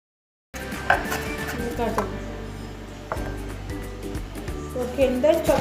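Green chillies are chopped into small pieces for a simple Tamil vegetable lunch, with a steady run of knife taps on a board, close and fairly loud, alongside occasional clinks and a voice speaking over it.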